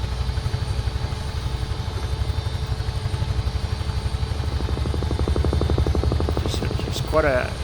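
A helicopter in flight, heard from inside, gives a loud, steady rotor chop and engine drone throughout, with a brief higher whine near the end.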